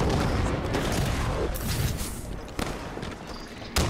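Video game gunfire rattles in dense bursts with booming hits over a noisy battle, loud and close, with a few sharp cracks near the end.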